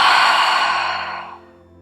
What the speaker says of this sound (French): j'inspire et j'expire bouche ouverte